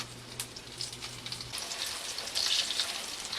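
Croquettes fry in grapeseed oil in a heated pan, giving a steady crackling sizzle with small pops that swells a little louder toward the end, with no talk.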